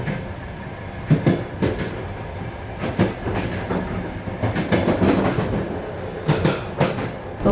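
A passenger train on the Bishkek–Balykchy railway line rumbles steadily at close range, with repeated rhythmic clickety-clack bursts from the wheels crossing rail joints throughout, and no voices.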